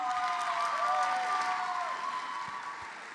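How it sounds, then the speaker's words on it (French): Audience applause at a fashion event, sustained clapping and some cheering from a crowd, fairly loud at first and tapering slightly toward the end. "Un bon applaudissement."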